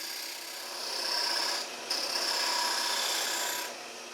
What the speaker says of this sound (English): what is a woodworking project without a little bit of sanding?